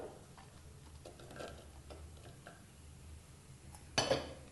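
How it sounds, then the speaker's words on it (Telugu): Potato and drumstick pieces drop into a pressure cooker with one short clatter near the end, after a stretch of faint, quiet kitchen background. "కుక్కర్లో ఫస్ట్ ఆలు ముక్కలు వేసుకోవాలి తర్వాత మొలక్కాడ ముక్కలు"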